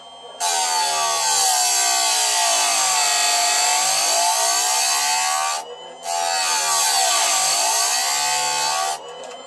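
Electric chain grinder sharpening the new chain of an Echo CS7310 chainsaw, a loud steady whining grind held for about five seconds, a brief pause, then another long even pass, with no talking.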